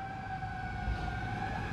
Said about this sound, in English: oh, where are these sirens are coming from?